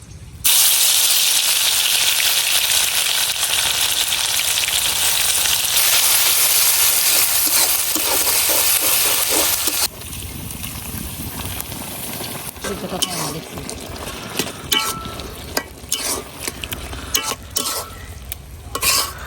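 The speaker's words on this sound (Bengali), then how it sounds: "এখন শাকটা বাগার দিয়ে নেম।" Red amaranth greens fry in hot oil with crushed garlic and onion in a kadai: a loud, steady sizzle for about ten seconds, then quieter scraping stirs and bursts of spitting.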